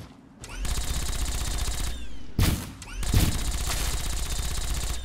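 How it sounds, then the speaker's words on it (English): Rapid gunfire in Fallout 3 aimed at a tree stump: two loud bursts of shots, each a dense run of cracks and booms, separated by a short pause with a tonal game sound in the background. "did you shoot at a stump?"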